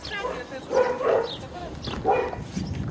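A dog barks and yips a few times at close range amid people talking, with short sharp bursts around the middle and end of the stretch.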